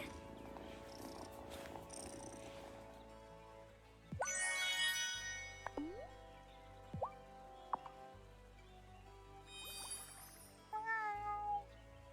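A cat in the farming video game Wylde Flowers purrs and gives several short, rising meows over soft background game music, with little chime-like sounds near the end.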